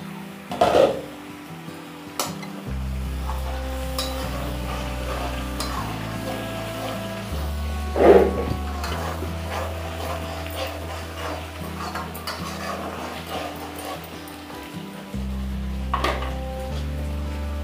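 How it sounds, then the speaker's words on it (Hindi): A lid comes off a pot of chicken masala gravy with loud metallic clanks, followed by steady stirring and scraping against the pan, with a low hum beneath and another clatter near the end. "अब इसे खोल के देख लेते हैं"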